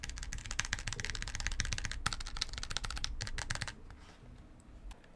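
Rapid, crisp clicking of a tactile keyboard switch with a regular, stabilizer-free keycap being pressed again and again, loud and close for about three and a half seconds, then tapering off into quieter, sparser taps.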